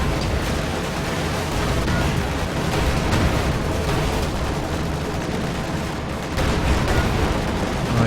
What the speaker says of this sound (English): May see anti-tank strafe as well.